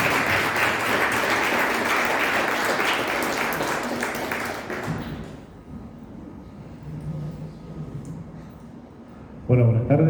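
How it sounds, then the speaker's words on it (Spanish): Audience applause welcoming the presenters at a Spanish-language book launch, dense clapping for about five seconds before fading into a quieter room, followed by a voice starting to speak at the end. "un aplauso para ellos para darles la bienvenida"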